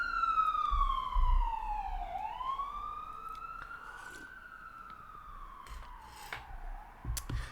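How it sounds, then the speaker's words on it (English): An ambulance siren wails loud and close, its pitch sliding down then rising again in long sweeps as the vehicle passes. "Let's wait for that ambulance to pass over here."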